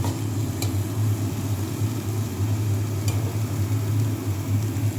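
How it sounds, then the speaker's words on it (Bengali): Poppy seed and spice paste frying in oil in a pan for Bengali egg dhoka, a steady close sizzle with a low continuous hum and a couple of faint clinks. "পোস্তটাও এটার মধ্যে কষিয়ে নেব"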